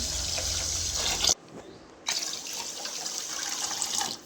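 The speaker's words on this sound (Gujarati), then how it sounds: "તેમાં હવે આપણે નાખીએ પાણી" Water pours steadily into a pot of washed rice and lentils for khichdi, breaks off briefly, then resumes with a continuous splashing flow.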